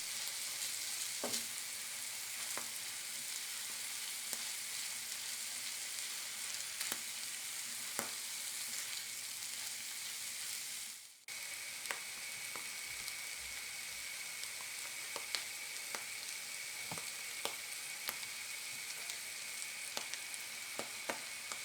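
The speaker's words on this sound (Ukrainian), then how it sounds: "Все смажимо декілька хвилин." Steady sizzling of meat with black pepper and herbs frying in a pan, a continuous crackling hiss with occasional sharper pops, no voices.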